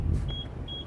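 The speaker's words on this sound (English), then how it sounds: "That beeping's from when you're backing up to remind you to look out for what you're doing" Backup warning beeper on a 2004 Ford Econoline E-350 Super Duty XLT wheelchair van, two thin high beeps spaced apart over a low idling rumble.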